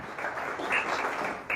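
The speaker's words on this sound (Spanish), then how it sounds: "¿Cuánto le dan un aplauso al Señor?" A church congregation claps in a dense, steady round of applause, moderately distant and without talk, swelling slightly toward the end.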